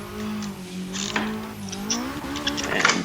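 A car laps the Ebisu race track, its engine droning steadily and shifting pitch as it accelerates and slows through corners, with brief tyre noise and rising revs near the end.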